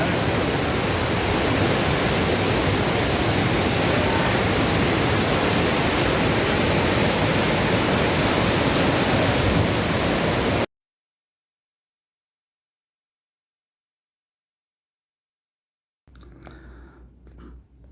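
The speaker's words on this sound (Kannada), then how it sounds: "ನೋಡಿ ಸ್ನೇಹಿತರೆ ತುಂಬ ವಿಶೇಷವಾಗಿರ್ತಕ್ಕಂಥ ಬೀರೇಶ್ವರ ಜಲಪಾತ" Bhimeshwara waterfall near Sagara, Shivamogga, Karnataka, roaring as a loud, dense, unbroken rush of falling water for about ten seconds. Silence follows, then faint voices at the end.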